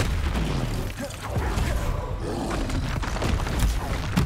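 Bombarda explosion spell in Hogwarts Legacy, deep rumbling booms and roaring blasts over a dense game soundscape, with a brief dip in the middle.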